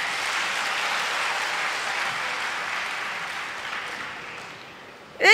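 Steady applause from a large audience at a Tamil public speech, a broad, even wash of clapping that holds for several seconds and fades slightly before a sharp burst at the end.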